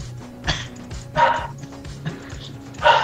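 A dog barking in League of Legends, several sharp close barks spaced irregularly across a few seconds over low background game sound.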